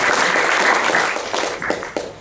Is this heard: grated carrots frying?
no